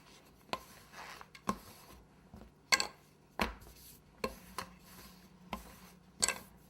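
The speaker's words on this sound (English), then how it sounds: "take a rolling pin and start to roll" A rolling pin works a slab of cake dough for a fruit basket cake, giving soft rhythmic rolling thumps and clacks roughly once a second, close up and alone.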